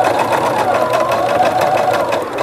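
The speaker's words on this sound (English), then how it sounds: "begin stitching on the top edge here. And you're going to keep the two pieces or the two sides folded together and stitch right along this edge" A sewing machine runs steadily as it stitches along the top edge of a cornhusk pot holder, with its close, continuous mechanical whir and needle chatter filling the scene.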